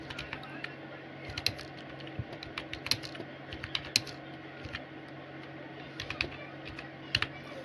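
Quick bursts of keystrokes clatter on a computer keyboard, irregular clicks close and fairly quiet, with brief pauses between runs of typing.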